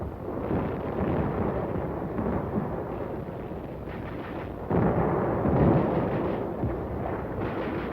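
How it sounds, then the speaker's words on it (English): Artillery bombardment at Inchon, Korea, 1950: a continuous heavy rumble of distant gunfire and explosions that swells and rolls without pause, surging louder partway through. "the bombardment was lifted at Walmey, but continued at Inchon"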